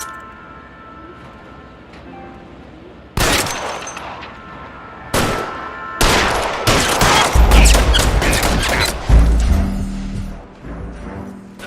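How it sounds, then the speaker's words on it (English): Loud gunfire in a shootout in the video game L.A. Noire: a few single heavy shots, then dense volleys of rapid fire with rumbling low booms, overlapping and continuing to the end. "Shots fired. Officer needs help."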